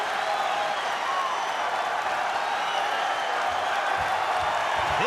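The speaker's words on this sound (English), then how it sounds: "This crowd making some noise, getting behind the sensational true freshman Angelo Ferrari" A college wrestling crowd cheers and applauds throughout, a dense, continuous roar of clapping and shouts filling the arena at moderate distance, with faint voices underneath.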